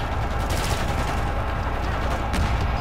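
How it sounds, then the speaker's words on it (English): Rapid automatic gunfire in Call of Duty Cold War on the Shipment map, likely the Bullfrog SMG, a dense, continuous rattle of close shots lasting the whole short burst. "Why are you shooting right now?"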